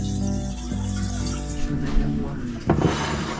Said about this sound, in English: we're running cold water on the pasta